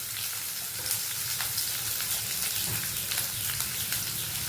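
Garlic and small onions fry in a pan, giving a steady, close sizzle and crackle that runs unbroken throughout with no voices.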